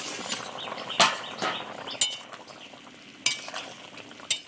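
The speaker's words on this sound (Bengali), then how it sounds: "তরকারি ফুটে উঠেছে, এবার ঢাকাটা খুলে নেব।" A pot lid comes off a pan of fish and potato curry on the boil, with sharp metallic clinks and knocks over faint bubbling in a quiet kitchen.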